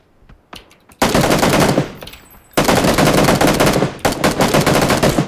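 Machine gun fire in PUBG, long loud automatic bursts close by, separated by short gaps with a few scattered single shots, and no voices heard.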